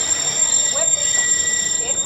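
Walt Disney World Railroad train pulling into a station, a steady loud rumble with faint squealing wheels and a high tone, close by, with voices talking over it.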